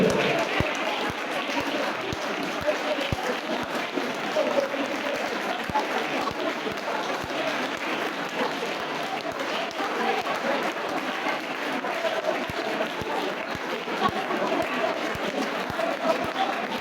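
A church congregation claps and calls out in praise of God, a steady wash of crowd clapping and cheering mixed with raised voices that carries on without a break.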